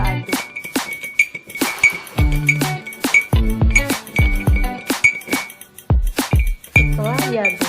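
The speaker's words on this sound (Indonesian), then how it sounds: "Lalu kita aduk." A metal spoon stirs sugar into a glass of tea, giving a run of quick, bright clinks against the glass in uneven bursts, with a voice speaking now and then between them.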